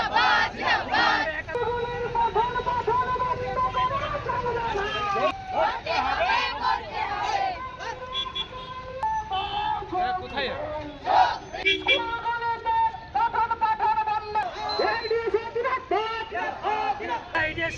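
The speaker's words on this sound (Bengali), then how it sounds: "শুক্রবার পূর্ব মেদিনীপুর জেলা সদরে একটি প্রতিবাদ মিছিল এবং ডিআই অফিস অভিযান করল" A student protest march crowd chants and shouts slogans in unison at a district headquarters in Purba Medinipur, voices rising and falling in loud rhythmic bursts with a lead voice calling out between responses.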